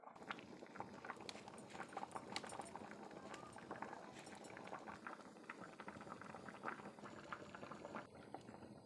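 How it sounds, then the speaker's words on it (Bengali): A pot of vegetarian ghugni, a pea curry, bubbles on the stove in a steady, low, continuous simmer with soft popping throughout, fairly quiet and close. "ফুট উঠছে"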